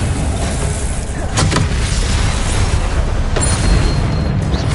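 Confringo explosive spell blasts from the Hogwarts Legacy video game, booming bursts over a dense, continuous roar of battle noise, with a couple of sharp impacts standing out loud and close.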